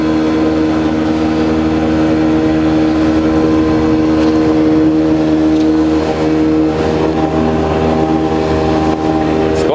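A Vydra boat's motor runs at full throttle, a loud steady droning whine with strong sustained tones, close and unbroken over the water.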